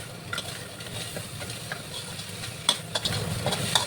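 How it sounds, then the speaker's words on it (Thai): Crispy fried catfish is stir-fried with curry paste and shredded kaffir lime peel in a pan, giving a soft continuous sizzle broken by repeated scraping and clinking strokes of the spatula. "นี่ปลาดุกของเราทอดกรอบๆแบบนี้ เราก็ จะลงไปผัดเลย"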